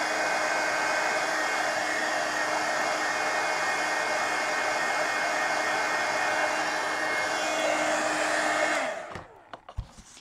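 A hair dryer blows steadily and loudly over a freshly washed mixed-media coloring book page for about nine seconds, then switches off, leaving a few faint clicks and handling sounds.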